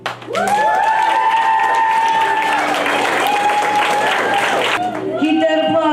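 A school audience at a fifth-grade poetry slam breaks into loud, sustained applause and cheering after a performance, with a voice speaking over the clapping.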